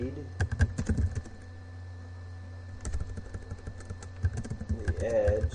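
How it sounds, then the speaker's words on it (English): Steady typing on a computer keyboard for a Google Docs document, with rapid clustered key clicks close up, pausing midway and then resuming. "Now I'll type something about how to type, how to read"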